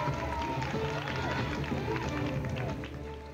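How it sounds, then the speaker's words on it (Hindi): Loud, sustained applause from a large crowd at a Jain religious ceremony for the installation of a monsoon-retreat kalash, a dense steady wash of clapping that eases slightly near the end. "जोरदार तालियां"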